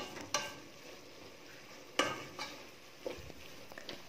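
Food being stirred in a cooking pan, quiet, with a few sharp spoon scrapes and clicks spaced over a soft background sizzle, no voices.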